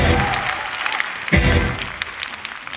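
Steady applause from a concert audience in the KBS Changwon hall auditorium, calling for an encore, fills the space, a dense wash of clapping with a brief swell partway through.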